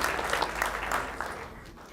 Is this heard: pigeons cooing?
no